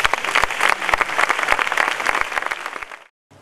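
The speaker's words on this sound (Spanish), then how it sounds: "Un aplauso para él" At the final of a flamenco singing contest in Sanlúcar, an audience gives a loud, dense burst of applause for a contestant, with sharp individual claps standing out before it cuts off abruptly.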